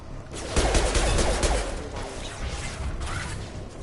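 Gunfire rattles through a Mass Effect 2 firefight, a dense burst of shots and metallic crashes that holds steady across the stretch with no pause.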